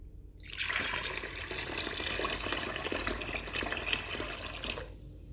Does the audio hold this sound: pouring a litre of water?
yes